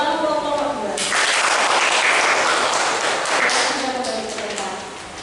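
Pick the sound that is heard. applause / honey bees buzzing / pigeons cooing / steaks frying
applause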